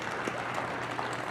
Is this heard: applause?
yes